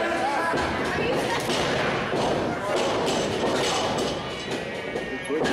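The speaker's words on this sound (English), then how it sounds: "Stiff shot to the back. Forceful forearm from Daniel Richards" Forearm strikes landing in a pro wrestling video game, heavy thuds amid continuous loud arena crowd noise and commentary-style talk throughout.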